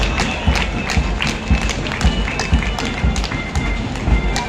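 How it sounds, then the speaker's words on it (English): An audience at a college sports meet applauds the athletics team of Ananda College, loud, dense clapping with rhythmic surges from a large crowd, lasting throughout. "please give a round of applause to the athletics team of Anand College"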